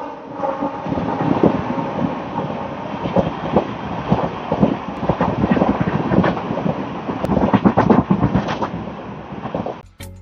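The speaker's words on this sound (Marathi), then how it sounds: "ही आली बदलापूरची राणी 8:10 ची लोकल" A crowded Mumbai suburban local train, the 8:10 to Badlapur, rumbles into the station with continuous loud rolling and clattering of wheels and wind buffeting the microphone before cutting off abruptly.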